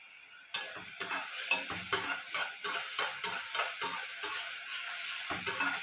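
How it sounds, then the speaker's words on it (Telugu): Potato pieces with salt and turmeric fry lightly in a little oil for aloo dum, a constant sizzle with a regular run of about a dozen sharp spatula scrapes and taps against the pan. "ఉప్పు పసుపు వేసి ఆయిల్లో కొంచెం లైట్గా ఫ్రై చేస్తున్నానండి"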